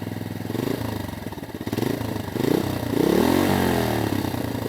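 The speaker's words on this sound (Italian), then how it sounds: "Per essere un 125 4 tempi originale, il sound in confronto a molti altri modelli non è tanto male." A Rieju Marathon 125 AC original two-valve 125cc four-stroke single-cylinder engine idles and revs nearby, with a pulsing mechanical chug rising and falling through several throttle blips before settling into a steady higher-pitched drone.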